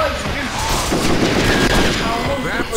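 Gunfire in the Western video game Red Dead Revolver, a dense burst of overlapping shots and booms filling the clip, with a voice talking over the action.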